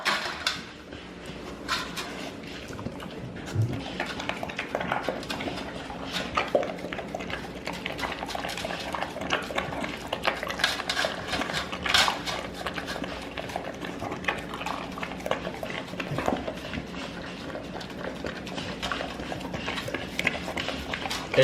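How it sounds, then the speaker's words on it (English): A nervous American Bully licks a bowl clean after water has been added to a Bully Max supplement, giving steady wet lapping and scraping sounds close by through the whole stretch, with occasional clatters. "As y'all can see, she's licking it clean."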